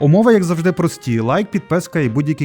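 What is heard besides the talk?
No distinct noise like a dog, phone or traffic.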